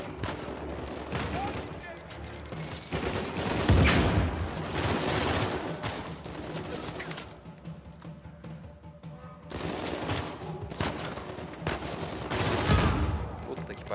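Sustained automatic gunfire in Uncharted 4, loud rattling bursts that swell and fade over the combat noise, with heavier surges near the start and end.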